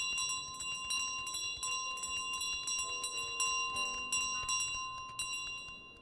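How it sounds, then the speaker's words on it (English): A goose rings a bell in Untitled Goose Game, a bright, sustained tinkling chime repeated in quick rolling strokes over a faint game-music background, with no talk. "Just ringing the bell."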